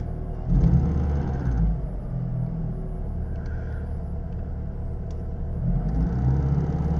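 Mitsubishi Galant VR4 turbo idling at about 1100 RPM, a steady low engine rumble close by with faint higher whirring, no talk over it.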